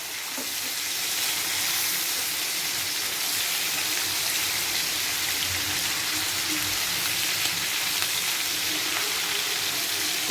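Chicken pieces fry in a hot pan with oil, a loud, steady, close sizzle that hisses continuously without pause.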